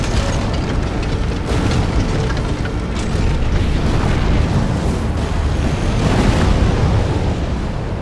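The Juggernaut is destroyed in Armored Core VI with a loud, sustained roaring explosion, a dense rumbling blast with several swelling bursts and no talk over it.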